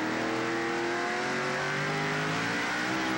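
Racing trucks roar around the track at the 1995 Craftsman Truck Series Ford Credit 125, a dense, continuous drone of loud engines with layered pitches shifting as trucks pass, no voices.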